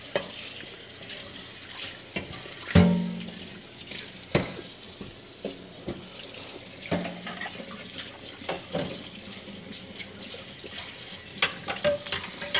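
Hot water runs from a tap into a sink with steady broadband splashing, broken by a few sharp clatters and knocks of dishes or utensils nearby.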